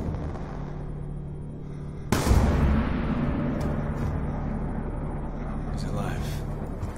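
A single loud gunshot cracks out in a Call of Duty Black Ops 2 cutscene. The sharp, sudden blast rises above a steady low rumble of background score and leaves a long, booming tail.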